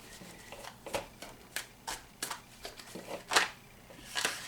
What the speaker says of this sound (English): let's shuffle a little bit, and we're going to fan them out